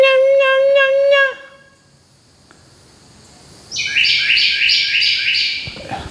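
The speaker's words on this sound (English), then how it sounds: "Check out our little bird up there." A small bird chirps in a quick run of bright tweets, then quiet, then a burst of rapid high chattering calls, fairly close and without talk.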